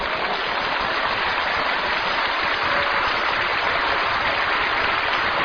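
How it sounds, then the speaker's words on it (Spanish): A large church congregation applauds loudly in a dense, continuous wash of clapping that holds steady throughout without pause. "Vamos a dar un aplauso fuerte a Jesucristo."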